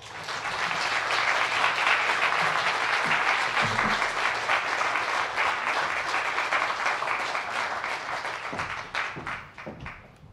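An audience applauds steadily for about ten seconds to welcome a speaker at an outdoor groundbreaking for a housing resource center. The clapping is loud and sustained, then thins out and fades toward the end.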